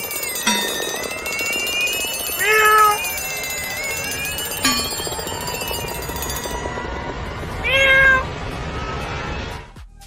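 A cat meows about four times at spaced intervals, each cry clear and fairly close, over a steady bright tonal background with no talking.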